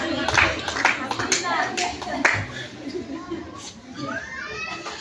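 A church congregation clapping together in a hall, bursts of hand claps over the first half that fade into murmuring voices and a speaker talking.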